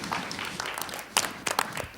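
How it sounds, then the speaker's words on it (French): Studio audience applause on a French television program, brief scattered clapping that rises and falls over about two seconds, with a few sharper individual claps standing out. "On peut applaudir ce sujet."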